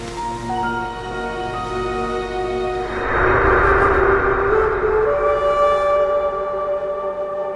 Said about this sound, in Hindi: हटो, ये गाड़ी नहीं एम्बुलेंस है।